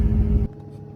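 A Ford Expedition engine runs with a loud, low, steady drone that abruptly drops to a quieter idle hum halfway through as the gears are switched.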